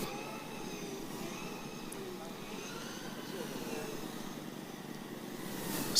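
A Formula Student driverless race car lapping a track, a steady whining electric motor drone heard from a distance beneath commentary, swelling slightly at the end.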